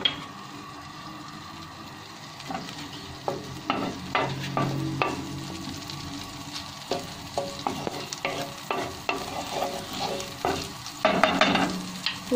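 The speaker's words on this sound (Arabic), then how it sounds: "دابا البنات في نفس المقله اللي صوتيت فيها الحوت غادي نزيد ثاني زبيده" Butter goes into a frying pan already used to sauté fish, giving a soft frying hiss with repeated clinks and scrapes of a utensil stirring against the pan, no voices.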